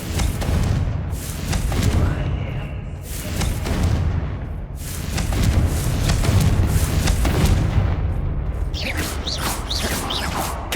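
Confringo blasting spell explosions in Hogwarts Legacy, with booming blasts and rumbling impacts in steady succession under dense game noise, and a voice heard partway through.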